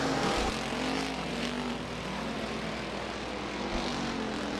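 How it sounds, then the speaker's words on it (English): Sportsman race cars circling Rapid Speedway during a heat race, a steady, loud engine roar that holds throughout with little variation, as if several cars pass close by together. "Bradley, Todd Steenhoven, and Brandon Bovee as we fly around the Rapid Speedway one last time"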